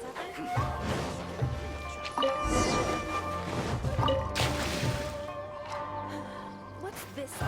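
Splashing and dripping water as trees are watered in Genshin Impact, a run of wet patters and squishes over light background music, with a voice talking alongside.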